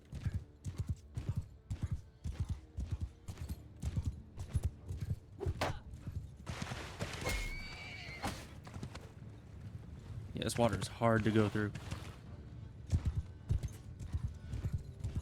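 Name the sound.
cavalry horses' hoofbeats in video game Mount and Blade II: Bannerlord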